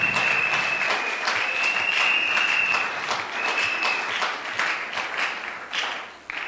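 A church congregation applauds steadily for several seconds, dense clapping with high whistles or shouts riding over it, tapering off near the end.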